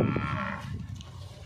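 A dairy buffalo lets out a single deep, loud moo up close, starting strong and trailing off over about a second with no other voices around.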